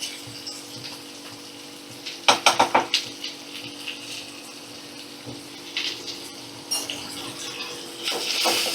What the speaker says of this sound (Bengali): নুন হলুদ দিয়ে ভালো করে আমি ভাজা ভাজা করে নেব।